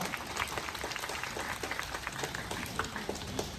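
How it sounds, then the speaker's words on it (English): Audience applause at a night safari animal show after a fish owl's flight, a steady crowd of clapping hands for several seconds with no speech over it. "Give a round of applause to Midnight, our Malay fish owl."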